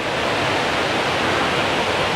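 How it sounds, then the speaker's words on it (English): The Mae Ya waterfalls in Thailand roar as a loud, steady broadband rush of falling water, continuous and close, with no voices. "those waterfalls are pretty big"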